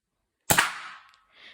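A single sharp pop of a Nerf blaster firing a dart, followed by a short whooshing tail and a faint thud of impact on a target.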